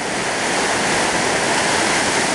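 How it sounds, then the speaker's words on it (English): Little river rapids at the Dolittle Rapids gold claim rush with a loud, dense, unbroken roar of water, close by and steady with no voices. "And pretty good set of little rapids here."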